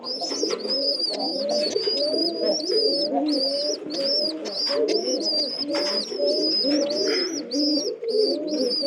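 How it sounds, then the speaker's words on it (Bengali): Pigeons and their chicks coo in a steady, continuous chorus of low, throaty calls, punctuated by repeated higher chirps, close and clear throughout with no talk. "পায়রা কিন্তু অনেক ভালো খাওয়ায়"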